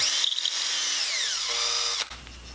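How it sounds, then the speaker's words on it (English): An electric drill bores a hole through a cork on a wooden dowel, a high, whining motor tone that holds steady and then drops in pitch, with a short pause, close and alone. "just slowly drill, well, maybe not slowly, but just drill a hole through"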